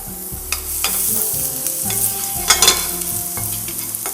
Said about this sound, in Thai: จะใช้น้ำมันมะกอกนะครับ นำกระเทียมสับนะครับ ลงมา ผัดกันเลยครับ